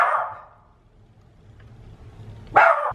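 A young puppy indoors in a home knitting space gives two short, sharp barks, one at the start and another near the end, close and loud against quiet room noise.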